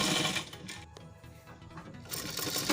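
An electric sewing machine runs in steady whirring bursts while stitching the fitting seams of a salwar, loud and close, with a brief slowdown in the middle before it speeds up again.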